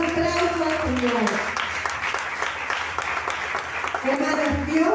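A church congregation applauds during a prosperity retreat sermon with sustained, moderately loud clapping, and voices rise over the applause at the start and end.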